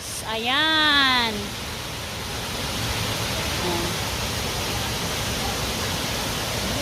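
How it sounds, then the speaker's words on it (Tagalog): Tinoyan Falls gives off a steady, loud rush of falling water throughout, and a person speaks briefly over it near the start. "Dito na kami sa Tinoyan Falls."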